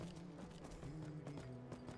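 Rhythmic horse hoof clip-clops in Skyrim tap along at a steady trot over a low droning background, quiet and fairly even.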